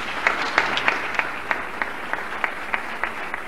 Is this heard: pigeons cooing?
no